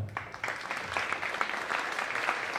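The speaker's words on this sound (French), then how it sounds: "on va l'applaudir très fort" Applause from the audience for Anne-Sophie at a lace-making queen competition event, a fairly soft, even patter of many hands clapping at some distance, continuous throughout and without talk.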